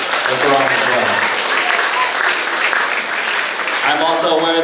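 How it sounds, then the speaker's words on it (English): Audience applause in a school gym during an 8th grade commencement ceremony, steady clapping from a seated crowd with a voice talking over it. "Thanks for all the applause."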